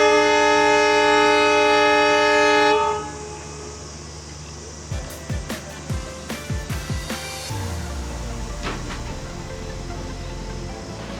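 A passenger train on the Bengaluru to Ankola route sounds a loud, sustained horn blast for nearly three seconds as it departs after a crossing. Low rolling rumble and a run of sharp wheel clacks follow.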